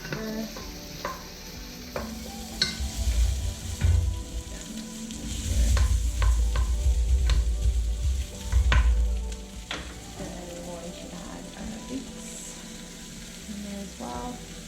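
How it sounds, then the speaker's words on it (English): Potatoes hit a hot pot for leek and potato soup, setting off a loud sizzle that swells in the middle and then eases, with clinks and scrapes of stirring scattered over the frying. "So it's hot, so we're going to add the potatoes in there."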